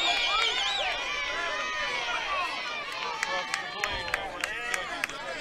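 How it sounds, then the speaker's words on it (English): Softball crowd at an ICC versus Gulf Coast game reacting to a late strike call, a mass of overlapping voices and shouts rising together, followed by scattered claps and sharp knocks. "You heard some of the ICC fans not too happy with that call there."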